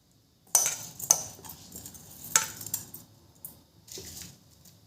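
Rice stirred into boiling milk for payesh gives sharp metallic clinks of a spoon striking the pot, several scattered hits, close and fairly faint with no talking.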